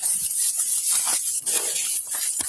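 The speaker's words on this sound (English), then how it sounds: "in the midst of both the suspect and the cop pepper spraying each other" Pepper spray jets out during a close-range scuffle between a police officer and a suspect, a loud, sustained hiss that pulses slightly in strength and runs nearly continuously.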